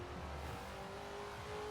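A 1968 Pontiac Firebird drag car launching in Forza Horizon 4: a steady engine roar with a sustained droning tone, held at constant loudness, faint overall.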